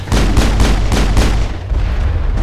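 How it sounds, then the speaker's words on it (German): A rapid string of loud, punchy video game gunshots in Mass Effect, about five in quick rhythm, followed by a lingering rumble and one more muffled blast. "Schuss."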